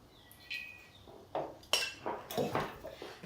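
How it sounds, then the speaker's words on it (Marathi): A pot set down on a gas stove and a ladle of oil added for spinach sabji, heard as several faint metallic clinks and light knocks, close but quiet. "सर्वप्रथम मी गॅसवर पातेलं ठेवते, त्यात 1 पळी तेल टाकते"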